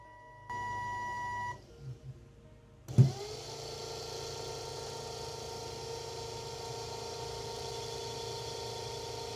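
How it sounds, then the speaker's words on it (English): A high current DC motor driven by an Arduino and BTS7960 driver whines steadily after a brief electronic tone and a click as it starts, then runs on with a constant close hum. "The motor is rotating in the opposite direction."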